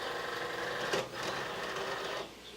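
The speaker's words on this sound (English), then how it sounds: "Load it into the machine." A Cricut cutting machine draws in a cutting mat loaded with vellum, with a close, steady motorized whir and a faint click, and nobody speaking.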